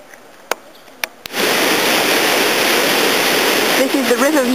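A river roars loudly at Three Rivers, California, a dense continuous rush that starts abruptly after a few soft clicks and holds steady, with a voice beginning to speak over it near the end.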